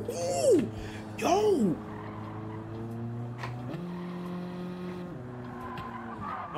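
A car brakes hard and its tires squeal in two sharp, loud bursts, followed by a steady engine drone that shifts pitch once partway through.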